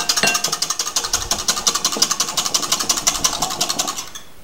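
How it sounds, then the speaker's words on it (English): A hand whisk beats eggs into chocolate pudding cake batter in a bowl, a fast, even rhythm of clicking strokes, close and steady for about four seconds before it stops. "just give it a little whisk until everything is nice and combined"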